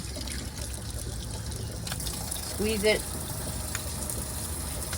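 Water runs from a pull-out sprayer at the sink of a Ford Transit campervan, a steady broadband hiss at close range, with a person talking over it.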